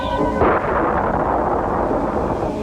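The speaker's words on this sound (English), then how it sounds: "On a dark and stormy planet in outer space" A deep, loud thunder roll from a dark, stormy planet in a cartoon soundtrack, rumbling continuously for a few seconds with a sharper crack near the start.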